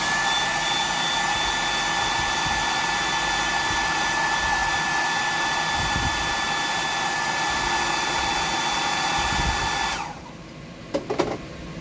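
A dryer blows over a fresh paint coat on a deep-diving fishing lure, a steady, loud whirring rush for about ten seconds before it switches off, leaving a few faint clicks.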